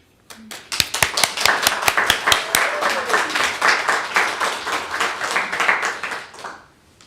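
Applause from a gathered congregation at a Buddhist dharma family service, welcoming a new speaker: dense, lively clapping that swells quickly, holds steady, then tapers off and stops.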